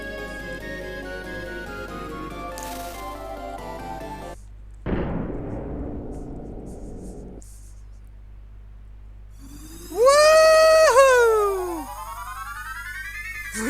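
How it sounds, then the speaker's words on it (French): A cannon shot in the Secret of Mana video game, heard as a sharp burst over looping game music, followed by a decaying rumble and then rising, sweeping synthetic tones. "Allez, un petit coup de canon."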